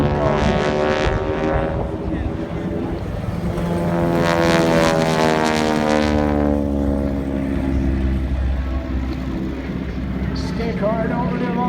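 A single-propeller aerobatic airplane flies loops and Cuban 8 maneuvers at a 2016 fly-in air show in Terrell, Texas. Its engine drones loud and steady, with rising and falling pitch sweeps as it climbs, dives and passes overhead.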